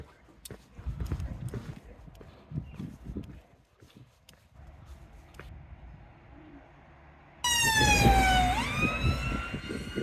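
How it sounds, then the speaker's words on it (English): An ambulance siren wails in suddenly and stays loud and close, following quieter street noise with scattered footsteps and clatter. "Another ambulance."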